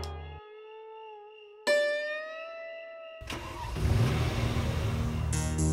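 A car engine starts at night, breaking in after a few sustained tones, then settles into a rough, noisy running rumble as the car pulls away.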